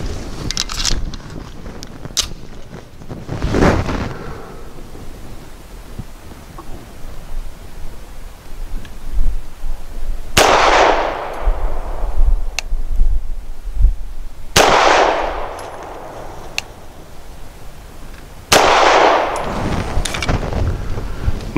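Gunshots from a Tisas Zigana F pistol firing SIG 365 115 grain full metal jacket rounds outdoors, several sharp loud cracks spaced seconds apart over steady wind noise.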